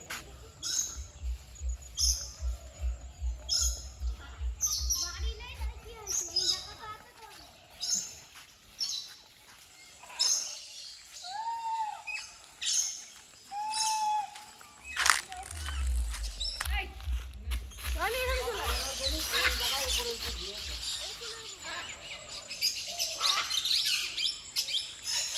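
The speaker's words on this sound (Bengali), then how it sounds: "এখানে চারিদিকে শুধুমাত্র পাখির ডাক শুনতে পারবে" Birds chirp and call all around in the quiet Parmadan Forest, the Bibhutibhushan wildlife sanctuary, a steady mix of near and far tweets and songs, with a person talking through much of it.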